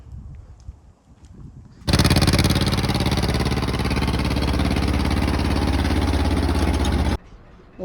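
A used Eicher 243 tractor's loud, rough engine bursts into life and keeps running steadily for several seconds, then cuts off abruptly, with quieter background noise before and after.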